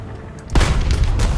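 A Russian KV-1 tank's main gun fires in the War Thunder simulator battle, one sudden loud close boom whose heavy rumble lingers and decays over the following second.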